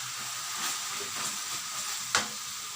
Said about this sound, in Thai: ใส่ตะไคร้เข้าไป